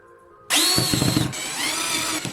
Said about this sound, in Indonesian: Buat tanda pada jarak yang sama di sepanjang pipa dan bor lubang tembus.